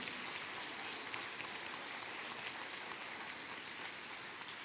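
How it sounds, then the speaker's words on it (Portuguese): A church congregation applauds, heard as a faint, even, hissing patter of many hands, distant and uniform with no distinct claps standing out. "Aplauda ao Senhor."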